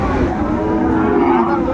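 A short, steady low moo from cattle at a bull market in Feni, heard close over a murmur of background voices.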